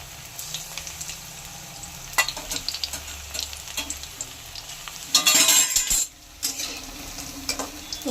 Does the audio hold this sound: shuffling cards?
no